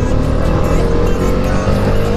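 A group of bikes rides along a road in Delhi, their engines giving a loud, close, continuous droning rumble with no break.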